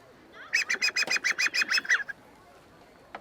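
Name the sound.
antique sandpiper hunting call being blown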